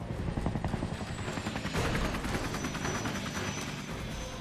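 A helicopter flies over a hot air balloon festival in Ukraine, its rotor producing a steady, rapid chopping throb with engine whine, moderately distant and continuous throughout with no voices.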